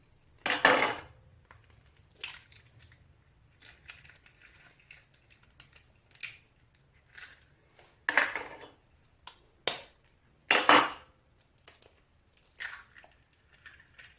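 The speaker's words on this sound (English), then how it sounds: "I'm going to break up the eggs" Two eggs cracked for Ugandan donut dough, giving sharp intermittent cracks and crunchy taps spaced across a quiet background, close and distinct.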